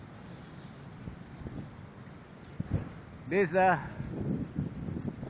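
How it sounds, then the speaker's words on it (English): Strong wind roars around a 40 m Yagi antenna mounted 30 m above the ground in Banda Aceh, a steady low buffeting rush against the microphone, with a short burst of speech partway through. "Maybe you can hear the sound of the wind."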